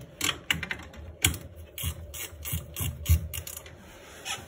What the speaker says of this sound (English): I love these ratchet wrenches for working on these.